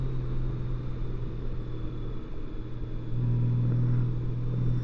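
Motorcycle engine on a curvy mountain road in Alabama, a steady mid-low drone with a brief rising tone near the end, close and continuous without talk.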